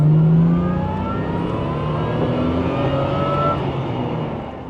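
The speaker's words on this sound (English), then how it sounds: "I'm just going to do one more and lose a bit of speed. 30 mile an hour in second gear." Aston Martin DB7 accelerating hard in second gear from about 30 mph, a loud, close, steady engine roar with rising pitch throughout and no talking.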